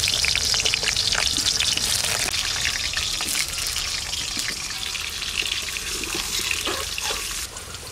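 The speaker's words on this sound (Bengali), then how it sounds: "আলুগুলো ভেজে নিচ্ছি।" Potato pieces fry in hot oil for a mutton biryani, making a loud continuous sizzle and crackle up close, with no voices.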